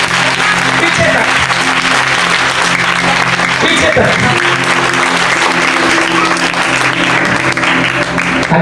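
Sustained applause from a church sermon audience fills the space steadily, loud and dense throughout, with a voice speaking over it.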